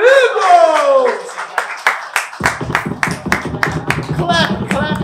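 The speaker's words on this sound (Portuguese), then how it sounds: "Palmas pra esse round, meus amigos!" At a Brazilian freestyle rap battle final, an emcee's excited voice gives way to a crowd clapping in quick, uneven bursts, with loud voices shouting over the applause.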